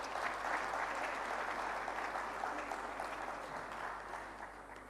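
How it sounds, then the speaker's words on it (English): Sustained audience applause fills a management and HRD summit hall in Lahore, a steady dense roar of many hands that holds evenly for the whole stretch before easing slightly near the end, with no one talking over it. "A bigger round of applause for that."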